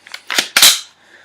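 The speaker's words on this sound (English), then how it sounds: "It's always the most satisfying sound when you rack that bolt and you pull that trigger" A Tippmann A5 paintball marker is racked and dry-fired: a few light mechanical clicks from the bolt, then a sharp, loud snap with a short rattling tail, close by and with no talk.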